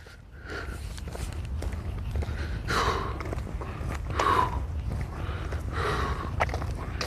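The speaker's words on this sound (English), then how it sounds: "Hear me breathing hard?" Heavy, effortful breathing from a man out walking, several audible huffing breaths in a slow rhythm over footsteps and low outdoor rumble, close to the mic.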